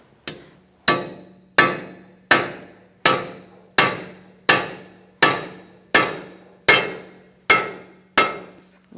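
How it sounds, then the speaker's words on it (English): Metal punch struck repeatedly with a hammer against the center of a Ford Focus front axle during strut replacement: twelve sharp, ringing blows at an even, steady pace, each with a short decaying ring and a faint hum beneath. "We're going to use a punch and put it in the center of this axle and just make sure it's free."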